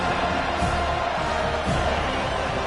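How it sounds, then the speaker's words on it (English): A stadium crowd in the EA Sports College Football 25 video game roars and jeers steadily, a dense wash of massed voices that stays loud and unbroken throughout. "this crowd is letting them have it"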